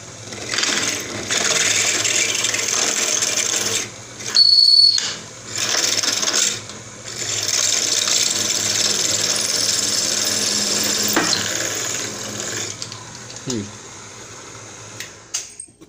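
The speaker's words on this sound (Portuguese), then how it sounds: "Agora eu vou passar a outra broca que vai ser a medida que eu vou abrir rosca pro machinho" An electric drill bores a hole in metal with a larger bit sized for tapping a thread, part of making a homemade lathe tool. A steady loud grinding whir runs in long stretches with brief pauses and changes in pitch, with no talk over it.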